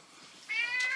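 A chunky, very fat pet cat gives a single short meow, near and clear, after a quiet moment in a home setting.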